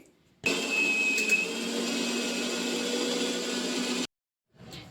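Electric mixer grinder blending homemade cake batter, a loud steady motor whine that starts abruptly, runs for about three and a half seconds and cuts off sharply.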